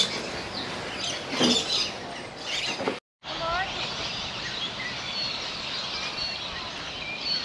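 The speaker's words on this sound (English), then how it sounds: "Look at those finches." Finches chirping at a bird feeder at a free camp by the Calliope River near Gladstone, with small high calls scattered through a steady outdoor wash, a brief gap, then continuing amid people talking nearby.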